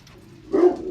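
A mastiff, a big dog, gives a single deep bark, close and fairly loud, following a quiet moment.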